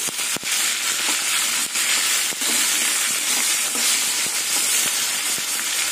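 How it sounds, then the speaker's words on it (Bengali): Tomatoes frying lightly in hot salted oil in a pan, a steady close sizzle and hiss with occasional soft crackles and pops throughout. "টমেটোটা হালকা করে একটু ভেজে নেব"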